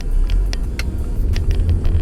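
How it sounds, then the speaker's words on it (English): A single car passes on a small road, a low rumbling engine and tire noise close by with a few faint clicks over it, steady for a couple of seconds with no talking. "there's actually a car here, but it's just one car"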